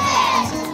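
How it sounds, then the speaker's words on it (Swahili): An open-air revival meeting crowd breaks into a brief, loud burst of cheering and shouting, voices rising together in a short collective roar. "makofi na shangwe kwa Yesu"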